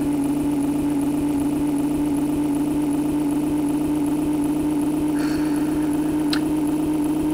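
A steady, droning truck engine from the video game Big Rigs Over The Road Racing hums without pause, with a couple of faint clicks near the end.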